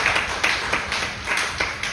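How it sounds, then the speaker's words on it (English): Applause rises in a lively honky tonk bar on Broadway in Nashville, with clapping that pulses in a loose, repeated rhythm and fills the room at a strong, even level. "which that deserves a big round of applause"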